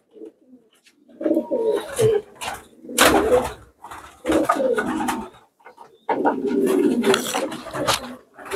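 Racing pigeons in a loft, males and females mixed together, cooing in repeated low, throaty bursts with some wing and body shuffling, close and fairly loud.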